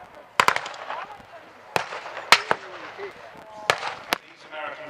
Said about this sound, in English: The Tankfest commander has given the word that they are opening fire.